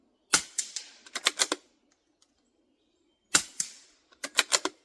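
Quiet .22 rimfire rifle shots into dirt: sharp, dry clicks and snaps in two short clusters separated by silence, each burst a quick run of faint cracks and thuds, close and unamplified.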